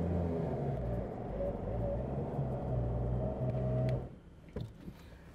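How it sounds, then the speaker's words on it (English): Winch on a 4x4 off-road vehicle reeling in its rope, a steady droning motor hum with a faint rising whine that holds for about four seconds, then stops, leaving quiet with a few light knocks. "Winch in for 30 seconds."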